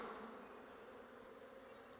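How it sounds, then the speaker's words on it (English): Honey bees are shaken off a hive frame during a queen cell check, giving a steady, dense swarm buzz that stays close and fairly loud for the whole stretch, with no talking. "shaking the bees is still hard to me"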